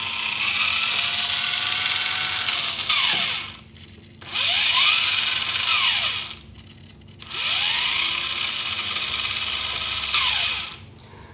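Electric motor of a 1977 Tamiya 1/10 scale Tyrrell P34 RC F1 car, direct drive to the rear axle, whines loudly in three long revving bursts with pitch sweeping up and down between short pauses.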